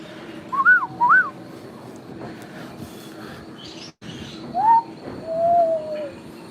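A person whistles with their mouth to imitate bird calls, giving short rising chirps and then a longer sliding note over faint background murmur.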